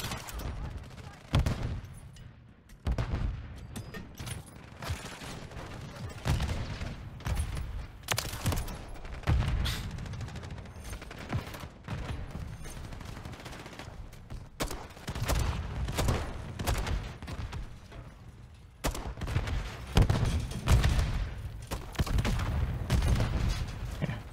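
Automatic weapons fire in hardcore mode of Call of Duty Modern Warfare 3, repeated rapid bursts and volleys crackling loudly with brief gaps between them, while players talk over the shooting.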